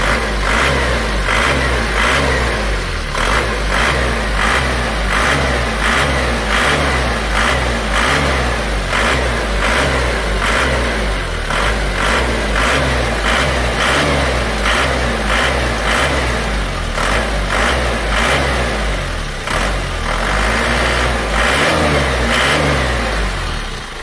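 A loud diesel engine runs continuously up close, with a harsh, hard knocking clatter repeating rapidly throughout, linked to fuel injection pump timing, and no voices.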